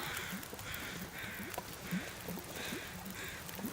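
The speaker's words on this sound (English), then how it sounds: "Hello, birds." Crows caw repeatedly in the survival video game The Long Dark, a series of short harsh calls spaced about every half second over a quiet outdoor ambience, moderately distant.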